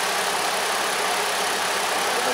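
A Ford Escape engine idles steadily, a constant close hum and hiss that stays even throughout without any change in speed.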